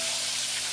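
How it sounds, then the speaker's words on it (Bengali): Fish frying in hot mustard oil in a wok, a steady broadband sizzle with fine crackle, close and continuous, no voices. "বেশি করে সর্ষের তেল দিচ্ছি যাতে মাছগুলো ভাজা হয়ে যায়"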